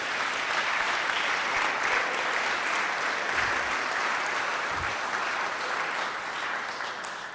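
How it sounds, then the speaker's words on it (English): A community audience at a call-to-action event applauds steadily, a dense wash of many hands clapping at once that stays loud for the whole stretch and eases off only slightly at the end. "Let's give them a round of applause and welcome them to our community"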